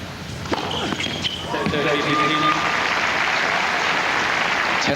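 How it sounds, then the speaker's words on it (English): A crowd at a 1998 Toronto tennis quarterfinal bursts into loud, sustained applause and cheering after a few sharp ball strikes, with a commentator's voice under the roar. "hear from the oohs and ahs from the crowd"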